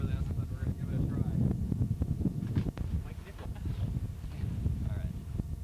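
Wind gusts across Leech Lake and buffets the microphone with a continuous low, rough rumble that rises and falls, while people talk nearby.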